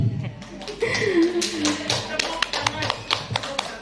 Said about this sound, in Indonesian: Ya, tepuk